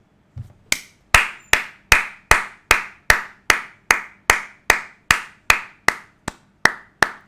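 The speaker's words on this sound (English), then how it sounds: "Very, very slow clap." Slow clapping by a single person, about fifteen sharp, evenly spaced claps roughly half a second apart, loud and close with no talk over them.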